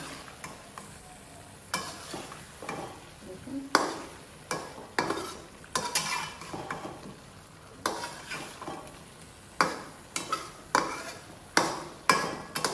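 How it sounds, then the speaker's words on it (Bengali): Mixed vegetables stir-fried in a pan over medium heat, a spatula scraping and tossing them in repeated rhythmic strokes over a continuous close sizzle, with no talking. "সবজিটাকে একটু কষিয়ে নিলাম"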